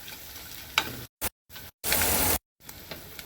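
Salted whole peanuts frying in a pan over a low gas flame: a soft sizzle broken by abrupt silent cuts, with one brief, louder hissing burst in the middle.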